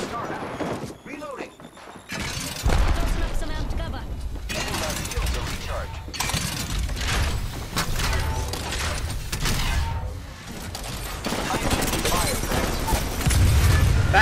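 Video game gunfire in Apex Legends, with bursts of shots and thuds running almost continuously and loudly, mixed with game effects and booms. Players talk over the action throughout.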